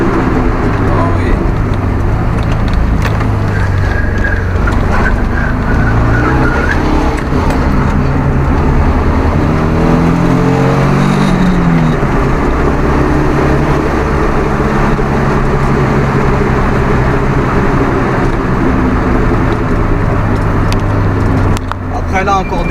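A Nissan 200SX S13 turbo with 170 hp accelerates with hesitations from an air leak. A loud, steady engine and road roar fills the cabin, rising in pitch midway, while people talk over it.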